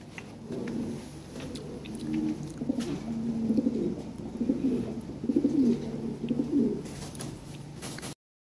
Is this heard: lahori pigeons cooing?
yes